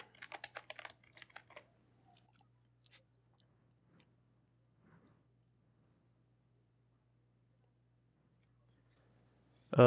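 Keys on a computer keyboard clatter in a quick burst as a project name is typed, close and crisp, then a few scattered taps before quiet, ending in a louder thump.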